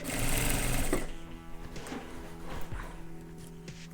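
A sewing machine stitching a fabric bag in brief bursts, with a loud run at first, then softer intermittent stitching and mechanical clicks, nearby and without talking.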